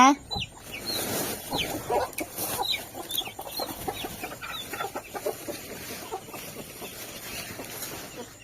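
Several chickens cluck close by in a busy, uneven stream, with a voice talking now and then among them.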